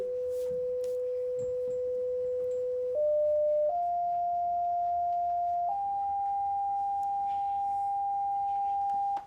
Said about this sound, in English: I'm going to start off playing it at 400 hertz now.